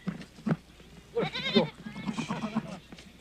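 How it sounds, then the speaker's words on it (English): Goats in the Khumbu of the Everest region, high mountain country, bleating several times at moderate distance, calls overlapping and rising in a mixed chorus. "goats long have threatened the slow-growing shrubs and trees of the high country"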